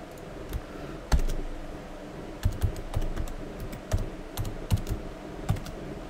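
A password being typed on a computer keyboard, close sharp key clicks in irregular bursts with short pauses between, loud and alone with no talking.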